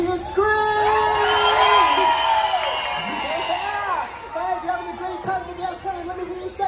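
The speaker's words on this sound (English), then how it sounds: "Now let me hear you scream." A crowd of children and adults screams and cheers at a live Disneyland show, high shrieks and whoops swelling loudly and then tailing off, with scattered shouts and talk underneath.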